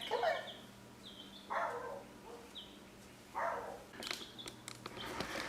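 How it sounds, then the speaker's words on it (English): Several dog barks and yips come in short bursts at a moderate distance, with pauses between them, over a low steady hum, near a coop of week-old chicks. "you can hear my dogs barking in the background"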